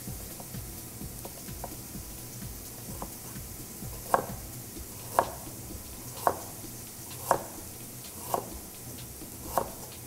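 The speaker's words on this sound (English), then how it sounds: "We're going to slice up that ginger" Knife slicing fresh ginger on a cutting board, about six evenly spaced crisp chops in a slow steady rhythm, close and clear over a faint kitchen background, with no talking.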